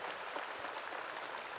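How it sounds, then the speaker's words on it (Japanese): A crowd applauds prize winners at a basketball fan festival event in Kariya, steady dense clapping at moderate level throughout without talk. "大きな拍手お願いします"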